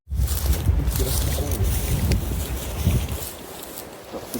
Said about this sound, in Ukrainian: погода у нас дуже погано і стала, вітер сильний дме, везде волни